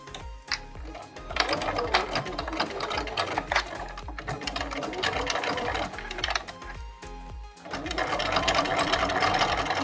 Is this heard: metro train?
no